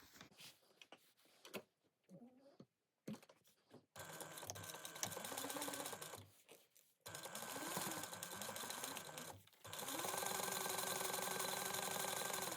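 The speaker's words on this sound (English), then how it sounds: "we're going to sew it at a 3/8 inch seam allowance." Sewing machine stitching a fabric seam at 3/8 inch allowance, running in several steady mechanical bursts separated by short pauses, close and fairly loud with no talking.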